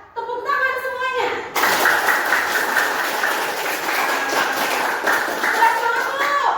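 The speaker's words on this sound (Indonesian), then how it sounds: "Ibu minta tepuk tangan semuanya." Classroom pupils clapping their hands together on the teacher's request, a dense burst of applause starting abruptly after a short voice and continuing steadily, with children's voices mixed in.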